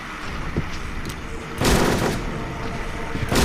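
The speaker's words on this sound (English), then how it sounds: "She's got a fucking submachine gun herself." Submachine gun fire in Silent Hill 3, a burst of sharp rattling shots followed by a heavy booming blast, loud and close amid a noisy, echoing game soundscape.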